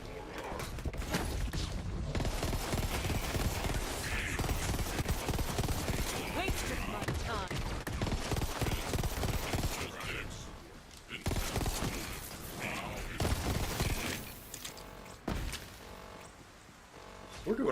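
Gunfire in the video game Borderlands 3, a dense, loud barrage of rapid shots and clattering impacts with game effects, mixed with people talking over the action.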